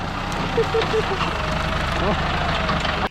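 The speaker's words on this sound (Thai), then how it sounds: "นี่ขับรถไถหนีพึ่งนะครับ" A heavy farm tractor engine chugs steadily at close range, a low rumbling drone with some faint clanking, until it cuts off suddenly at the end.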